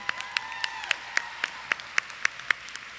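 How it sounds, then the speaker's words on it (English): Scattered applause from a graduation audience at Alonzo A. Crim Open Campus High School, sparse distinct claps spaced out in a loose rhythm, fairly near and moderately loud, with a faint tonal hum behind them. "Would you please stand and be recognized with a round of your applause"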